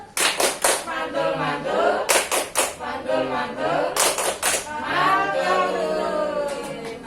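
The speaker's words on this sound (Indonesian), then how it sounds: "Ya tepuk mantul untuk Bu Windah." An audience at a training session claps out a patterned rhythmic cheer, several quick bursts of hand claps separated by short pauses, close and lively, with voices mixed in.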